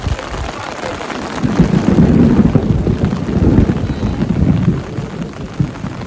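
A low, rumbling roll of thunder swells and fades over several seconds amid steady rain and wind buffeting the microphone at an outdoor medieval festival.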